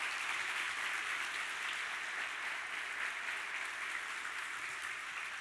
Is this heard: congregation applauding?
yes